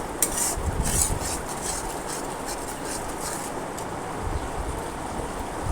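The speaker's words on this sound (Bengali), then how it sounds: "মশলাটা অনবরত নেড়ে যেতে হবে, নাহলে তলায় ধরে যাবে।" A thick masala paste for a papaya and potato rezala, cooked down with water, is stirred continuously in a pan, giving a steady scraping sizzle with a few clinks of the spoon against the metal.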